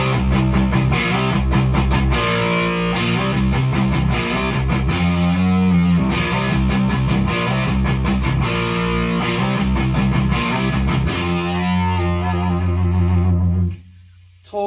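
An electric guitar plays through an Onkel Amplification Death's Head Fuzz pedal, giving thick, saturated, heavily distorted riffs. The playing is loud and sustained throughout, with choppy chord stabs, and cuts off abruptly near the end.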